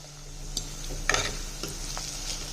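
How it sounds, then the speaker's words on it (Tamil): Pirandai (veldt grape) stems sauté quietly in a pan with a soft, steady sizzle, broken by a few scraping stirs of a spatula. "பிரண்டை பாதி வதங்கிடுச்சுங்க."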